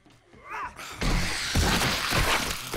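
A door smashes apart in the video game 7 Days to Die, a sharp shattering crash followed by rattling debris and clattering breakage that stays loud for a couple of seconds.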